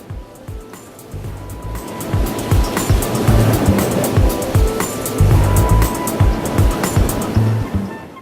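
Ocean waves and surf rolling in on South Africa's Wild Coast, a steady loud wash of breaking water with repeated surges building and fading close by, heard alone.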